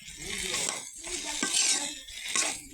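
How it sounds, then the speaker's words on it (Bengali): Food is stirred in a frying pan, with repeated scraping strokes and light metallic clinks over a soft sizzle, close and fairly quiet. "একটু মিক্স করবো। মিক্স করছি আমরা।"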